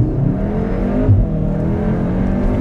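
A 2021 Cupra Formentor launching hard under launch control in sport mode, its engine a loud, steady droning roar from inside the cabin, with nobody speaking over it.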